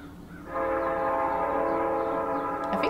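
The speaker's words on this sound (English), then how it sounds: "The train is coming soon." A train in the video game PARASiTE FLOWER pulls into a station, sounding a loud, sustained horn chord that swells in after a moment of rumble and holds steady to the end, with a faint clank near the close.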